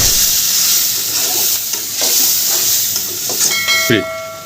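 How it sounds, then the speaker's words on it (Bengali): Fresh fish fries crisp in hot oil with a loud, continuous close sizzle and hiss, broken near the end by a few metallic clinks of a utensil. "মাছগুলো ভেজে নিলাম কড়া করে"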